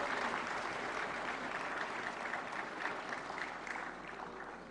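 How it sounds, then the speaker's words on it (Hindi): Sustained applause from a large audience at a national film award ceremony, a dense continuous patter of clapping that fades slightly toward the end. "तालियों के साथ करें स्वागत।"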